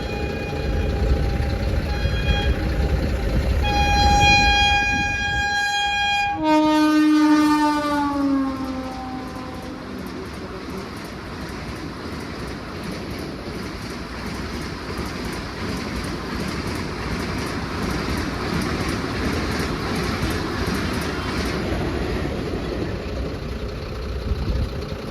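A train near a railway station sounds a long, loud horn blast, then rolls past with a steady rumbling clatter of wagons that carries on to the end.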